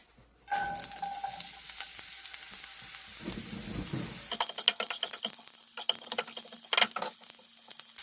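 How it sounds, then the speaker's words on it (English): Onions frying in olive oil in a pan, starting with a burst of sizzle that settles into quieter crackling, joined by clattering utensil scrapes and taps. "I'm going to add some olive oil in here and get my onions in there"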